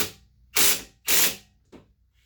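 Socket wrench with a 16mm socket ratcheting on a brake bolt during a front brake kit install on an Ion Redline or Cobalt SS, two loud close ratchet bursts followed by a shorter, quieter one.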